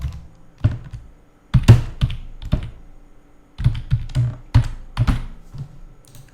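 Keys clack on a computer keyboard as a password is entered, in short bursts of quick taps separated by brief pauses, close and fairly crisp, with no talking.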